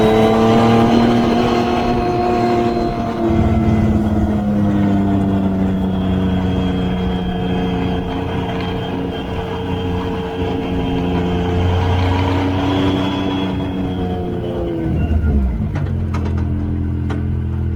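Car engine stumbling and smoking when taken above about 8,000 RPM, a loud, close, uneven drone that holds at high revs and then drops away near the end.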